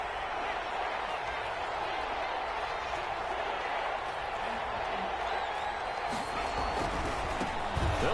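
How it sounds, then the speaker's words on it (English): A football crowd roars steadily inside a domed stadium on a third-and-goal play, a dense continuous wash of voices with scattered cheers and a louder swell near the end. "The crowd here in the Dome making things difficult."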